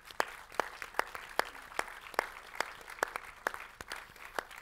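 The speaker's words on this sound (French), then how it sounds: "On peut l'applaudir, je pense." Sparse, faint applause from a small audience at a women's sport event, a handful of distinct, well-spaced claps ringing out steadily over a quiet room.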